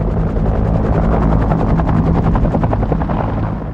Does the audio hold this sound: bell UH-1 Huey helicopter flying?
yes